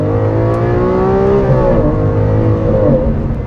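A first-generation Lamborghini Aventador's 6.5-litre V12 revs loud and close, its pitch rising and wavering in a short burst without any speech.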